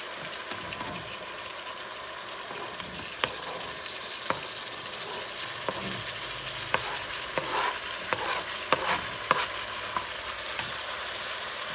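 Beef tripe for a Puerto Rican mondongo soup goes into a pot and fries with a steady sizzle, while a utensil stirs it and knocks against the pot in scattered clicks and scrapes.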